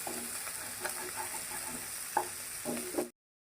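Mutton boti frying in masala with salt for a gongura curry: a steady close sizzle with a few stirring scrapes and taps, ending abruptly.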